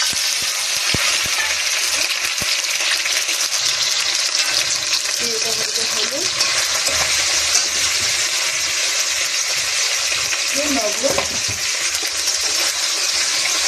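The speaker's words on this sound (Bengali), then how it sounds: "যে তেল কিন্তু গরম হয়ে গেছে, তাই এবারে মাছের মাথাগুলো দিয়ে ভেজে নেব।" Puti fish heads fry in hot oil, with a loud, steady, broadband sizzle that continues without a break.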